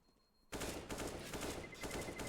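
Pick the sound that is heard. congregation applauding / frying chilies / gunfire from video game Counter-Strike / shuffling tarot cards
gunfire from video game Counter-Strike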